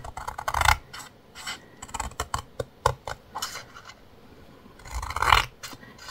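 Scrapbooking paper for a birth keepsake box being cut and scored on a craft table, with a series of close, uneven scratchy strokes and clicks, some brief and some drawn out, and no talking.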